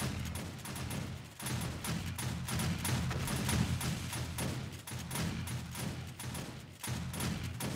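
Shotgun turrets firing rapidly on horde day in the video game 7 Days to Die, a dense, continuous barrage of overlapping blasts with no pauses, steady and fairly loud throughout.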